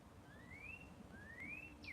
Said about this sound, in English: The one that's whistling right now, that's a cardinal.